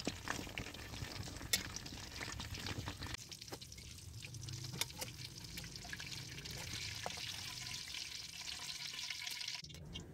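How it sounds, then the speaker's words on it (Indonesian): Sliced eggplant fries in a pan of oil with a soft, steady sizzle and faint crackle, low and close, with no talking. "Kemudian goreng terongnya."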